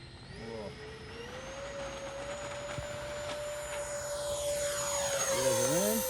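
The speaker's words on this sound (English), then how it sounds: "I want you to get the real sound of the jet" A custom radio-controlled private jet flies past, its turbine whining in a steady high tone that rises and sweeps in pitch as it passes, with a faint rushing roar growing louder toward the end.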